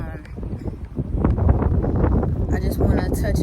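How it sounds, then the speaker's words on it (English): Gusty wind buffets a microphone with loud, rumbling low-frequency bursts that build and stay heavy, with a person speaking faintly underneath. "It's a little windy"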